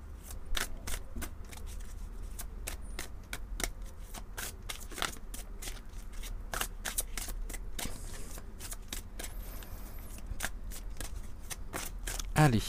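Angel oracle cards are shuffled by hand in a steady run of crisp riffling flicks, close and continuous, while someone talks in French over them.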